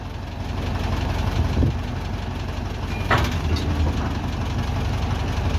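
A tractor engine idles steadily at close range, a constant low rumble with a faint knocking rhythm, fitted with a multi-purpose stone-collecting bucket; a couple of brief clanks sound over it.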